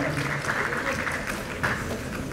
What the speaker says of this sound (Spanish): Fuertes palmas de todos nosotros